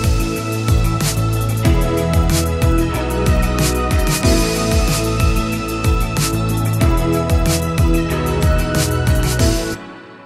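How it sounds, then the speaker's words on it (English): A busy 80s-style retro pop track with electric piano, produced in Logic Pro X, plays loud and dense, with steady punchy drums and layered synth parts running without a break until a short fade at the end. "you end up with a production that sounds like this"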